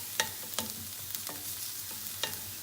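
Garlic and chicken fry in a pan at a low, steady sizzle, broken by a few distinct scrapes and clacks of a utensil stirring, fairly quiet and without talk.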